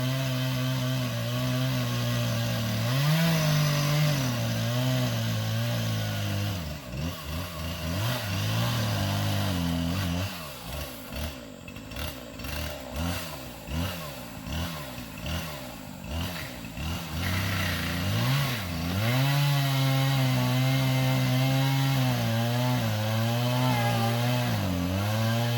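A chainsaw runs steadily at close range, its engine revving and bogging as it bites into the wood of a dead tree, with no voices over it.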